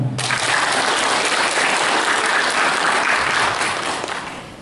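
Audience applause at an anti-drug student pledge event, a sudden burst of dense clapping that holds steady and begins to fade at the end.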